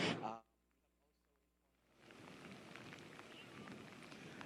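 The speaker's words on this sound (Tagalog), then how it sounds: "sa ngayon nakaranas uli ng pag-ulan dito sa Surigao City" Rain falls steadily in Surigao City as a storm approaches, a dense hiss of drops that fades in after a brief loud burst and a quiet stretch, then holds constant.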